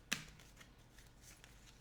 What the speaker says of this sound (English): so that was the 11th shuffle